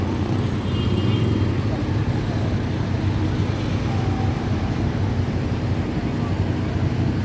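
Steady roar of heavy bumper-to-bumper road traffic on the six-lane Philippine-Japan National Highway, engines and rolling tyres close by, with faint voices underneath.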